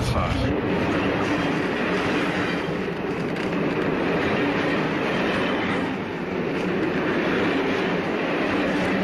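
The Ghan train rumbles steadily along the rails between Port Augusta and Marree, a loud continuous roar with faint rhythmic clatter from the wheels, heard from inside or very near.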